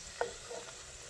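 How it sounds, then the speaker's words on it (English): Empanadas frying in a deep fryer give a faint, steady sizzle with a brief louder clink or splash near the start as they are turned. "these are the empanadas, and we're going to try to turn them over"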